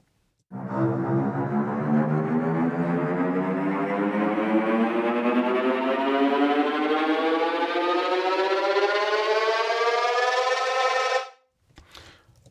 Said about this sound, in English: instead what we get this time is a semitone trill